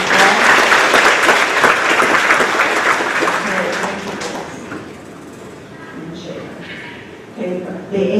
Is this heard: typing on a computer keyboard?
no